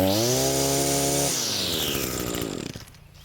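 Husqvarna 128CD string trimmer engine screaming at high RPM, loud and close, then dropping off sharply as the throttle releases and winding down toward idle.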